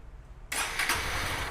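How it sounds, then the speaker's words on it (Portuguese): A car engine cranks and catches during a MAP and air-temperature sensor test, a sudden loud burst of starter and engine noise after a brief quiet moment, settling into a steady run. "Agora nós vamos ligar o motor e vamos ver o acionamento desse sensor"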